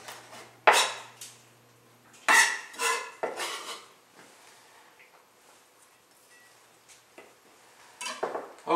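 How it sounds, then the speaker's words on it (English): Garlic being smashed and then chopped into small pieces on a kitchen board, a few sharp knocks and clacks of knife and utensils followed by softer scattered taps and scrapes, close by. "I'm going to smash this garlic like so, so that it's almost already done for me. And then cut it into small pieces."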